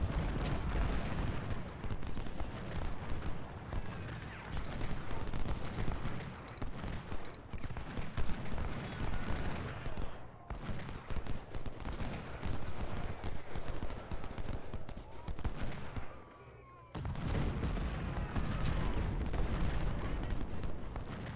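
Dense, continuous gunfire and artillery from a Civil War battle in the Ultimate General: Civil War video game, rolling volleys and booming cannon filling most of the clip with a brief lull near the end before the barrage resumes.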